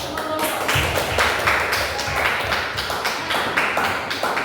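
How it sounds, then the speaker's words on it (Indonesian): An audience claps together, dense continuous applause lasting several seconds with a slightly rhythmic, even texture and no talk over it. "silakan beri aplaus untuk"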